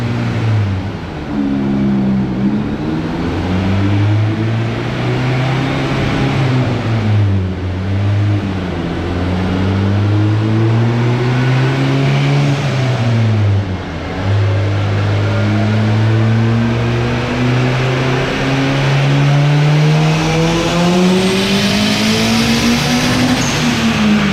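A turbocharged Honda K20A3 engine drones loudly and continuously on a dyno at AGN Tuning in Killeen, Texas, its pitch swelling and dipping through several rises before climbing steadily toward the end of the pull.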